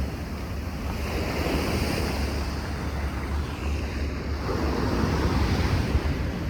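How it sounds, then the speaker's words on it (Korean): Ocean waves breaking on the shore off Jungni in Yeongdo, Busan, a continuous rolling roar of surf mixed with gusty wind buffeting the microphone, steady and close with a slight swell near the end. "파도 소리"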